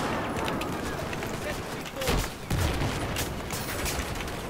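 Fast, rapid-fire shots from a rifle or light machine gun in Battlefield 4, the loud cracks clustering in a burst near the middle over steady battlefield noise, with players talking underneath.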